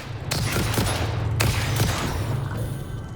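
Rapid bursts of gunfire from a weapon in the factory-building game Satisfactory, loud and close, repeating in quick irregular shots over constant game background noise.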